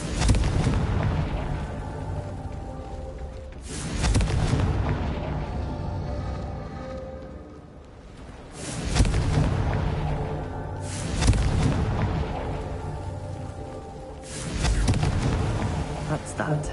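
Repeated Confringo spell explosions in Hogwarts Legacy, four loud booming bursts spaced a few seconds apart, each with a crackling roar that fades over game music and ambience.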